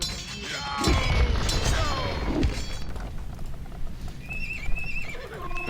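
Paladin and Cavalier cavalry in an Age of Empires match, horses whinnying loudly up close with clip-clopping hooves and battle thuds, neighs rising over the noise and then fading.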